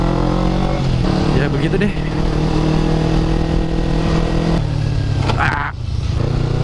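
A Kawasaki Ninja 250R motorcycle engine drones steadily at close range, its low rumble shifting as the revs drop under engine braking, with someone talking over it throughout.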